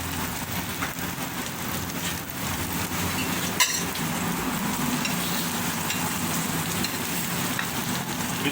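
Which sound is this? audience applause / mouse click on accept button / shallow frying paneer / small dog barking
shallow frying paneer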